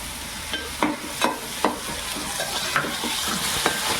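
Tomato paste being stirred into onions frying in a pan for prawn biryani, a continuous sizzle broken by repeated scraping strokes of a spoon at an uneven rhythm, close and clear with no talking.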